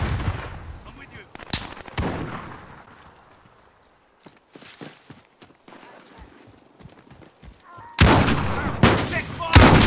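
Gunfire in the video game Modern Warfare 2019, Infected mode, comes as scattered sharp shots and bursts, with a quieter patch in the middle and heavy loud firing toward the end.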